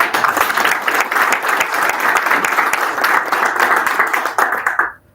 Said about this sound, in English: So let's give them all a big round of applause.